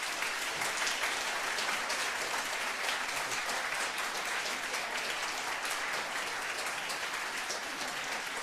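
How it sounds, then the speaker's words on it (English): Steady, dense applause from an audience at a NASA public talk on the WFIRST mission, a continuous wash of clapping held at even loudness throughout with no voices over it. "let us one more time give Amber a warm round of applause"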